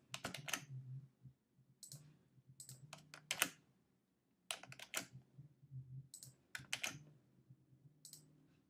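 Keystrokes on a computer keyboard while working in Tinkercad Circuits, quick bursts of crisp clicks in short clusters separated by brief pauses, close and clear with no talking.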